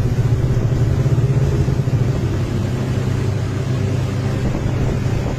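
A snow bike engine drones steadily while riding at high altitude, around 11,500 in the mountains, a loud continuous motor roar mixed with heavy wind buffeting, with no talk.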